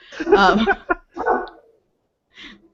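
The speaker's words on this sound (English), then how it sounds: "stupid dog" A dog barks close by in a few short, sharp bursts: a couple of quick barks, a pause, then a fainter final yip, heard alone without talk over it.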